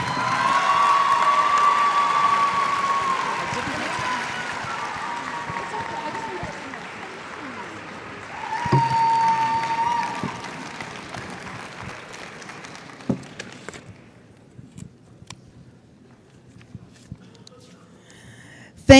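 Audience applause and cheering fill the hall after a speech at a national academic decathlon super quiz, loud and sustained at first, swelling again midway, then thinning to scattered claps and near quiet.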